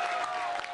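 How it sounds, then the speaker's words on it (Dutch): Applause from hundreds of cycling fans welcoming a rider at a Tour of Flanders centre in Oudenaarde: a steady, dense wash of clapping fills the whole short moment with crowd noise behind it. "Fabio Cancellara, uw applaus alsjeblieft."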